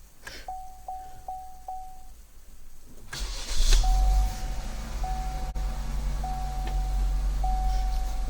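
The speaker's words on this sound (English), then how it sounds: "we're going to start the engine again with the push button" A car chimes with short repeated beeps, then a push-button start brings the engine to life with a surge before settling into a steady idle with intermittent chimes.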